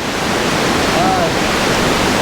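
Joe's Fork Falls at Buffalo Cove pours in a constant, loud, dense roar of rushing water, heard close with no pause.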